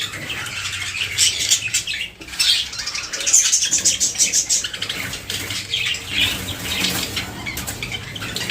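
Budgerigars being caught by hand and moved into a cage flap their wings in frantic flurries and let out sharp chirps, close and busy throughout with no talking.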